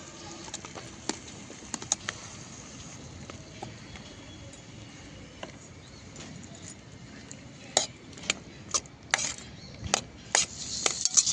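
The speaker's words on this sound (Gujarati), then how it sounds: "ફાસ્ટ ફ્લેમ પર આવી રીતે ફેરવતા જઈને શેકી લેવાની છે" A spatula clinks and scrapes against a pan in quick irregular strokes as chopped onions fry in about a spoonful of hot oil over high flame, with a soft frying hiss and stirring growing busier toward the end.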